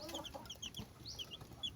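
Newly hatched chicks from a hen's third batch peep in short high chirps while a nearby hen clucks softly, close and fairly quiet with no talk.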